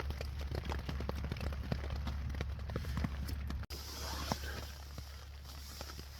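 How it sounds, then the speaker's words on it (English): Steady rain patters on a surface nearby at about 1 a.m. at a camp in an industrial estate, with scattered heavier drops tapping irregularly under a constant low hum. "As you can hear, it's still raining."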